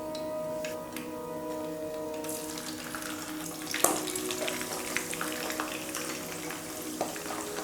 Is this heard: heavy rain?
no